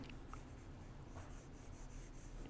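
A pencil sketches quickly on paper, giving a steady, soft scratching rasp that runs without a break and stays close and quiet.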